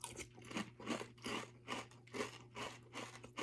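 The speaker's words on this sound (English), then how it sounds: "Let's go ahead and sample up our caramel corn Chex." Caramel corn Chex cereal crunched between the teeth in a steady series of bites, close and fairly loud, with rhythmic bursts of crisp crackling and no talk.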